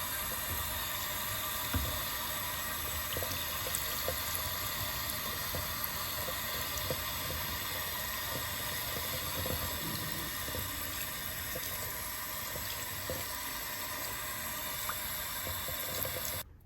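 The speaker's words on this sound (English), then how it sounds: "I'll wash my stencil, put it back on the backer" Running tap water pours steadily over a reusable Ikonart stencil being rinsed in a sink, a continuous even hiss and splash that never breaks and cuts off abruptly at the end.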